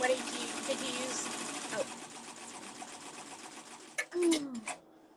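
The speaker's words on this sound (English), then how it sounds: "So stitching on vinyl" A sewing machine stitching on vinyl in a home sewing session, heard as a fast, continuous whir of stitching that stops partway, followed by a few short clicks and knocks.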